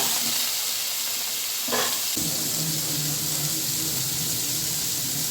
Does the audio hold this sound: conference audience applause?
no